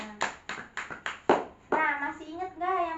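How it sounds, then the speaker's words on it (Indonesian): Children clap hands in a classroom, a handful of spaced, fairly soft claps, then a voice speaking briefly afterward. "Tepuk tangan dulu buat kita semuanya"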